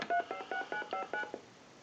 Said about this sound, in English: it just dialed our shop number